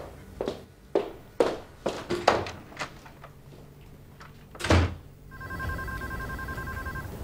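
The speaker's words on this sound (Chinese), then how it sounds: "你终于接电话了，多多，你那边情况怎么样？" A telephone rings steadily indoors for the last couple of seconds, following a few footsteps and a door thud; no one speaks.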